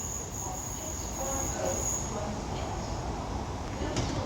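An Avanti West Coast class 805 train, unit 805006, pulls away from Llandudno Junction station on the North Wales coast, a steady low rumble with a faint high wheel squeal over it, heard from the platform with no talking.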